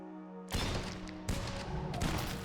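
Gunfire in the video game Wicked Seed: three heavy blasts in quick succession, each a broad loud burst with a ringing tail over a steady hum, no talk.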